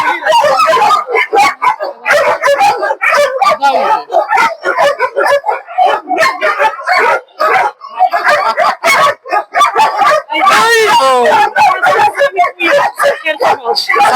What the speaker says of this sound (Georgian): ხმამაღლა იმიტომ ლაპარაკობ რომ ძაღლებმა გადაფარეს